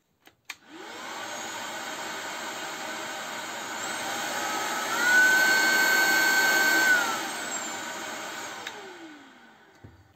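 A cordless vacuum cleaner with a trigger switch and mode display runs as a continuous high whine that switches on abruptly. Its pitch steps up briefly in the middle, then drops back before it shuts off.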